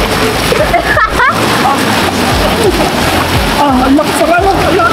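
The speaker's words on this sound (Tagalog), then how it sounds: "Ang lakas sa agos dito, banda." A strong river current at Wawa Dam in Rodriguez, Rizal rushes and splashes loudly and continuously up close, with voices speaking over the churning water.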